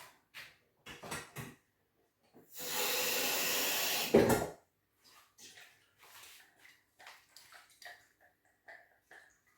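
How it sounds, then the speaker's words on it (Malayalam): While cooking, a close, loud stream of water pours for about two seconds and ends in a sharp splash. Scattered quiet knocks and soft handling noises come before and after it. "കുറച്ച് വെള്ളം കൂടി എടുക്കട്ടെ."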